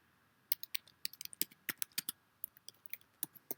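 Quick computer keyboard typing while an employer's address is entered into an online UK tourist visa application form, with irregular bursts of close, crisp key clicks and short pauses between runs.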